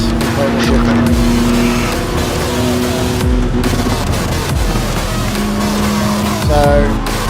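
In a racing video game, a race car engine roars loudly and continuously, rising and falling through gear changes, with squealing tyres cornering hard.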